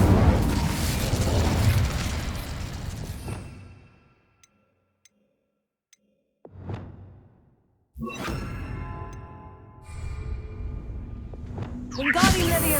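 Spell effects in Hogwarts Legacy, the Incendio fire spell, land as loud whooshing bursts with a sharp flare and crackle, separated by near-silent gaps, with a voice speaking over parts of it.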